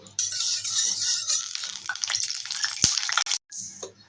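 Fish roe drops into hot oil in a wok and sets off a bright, close sizzle that crackles steadily, with a few sharp spattering pops and a brief pause near the end; no talking.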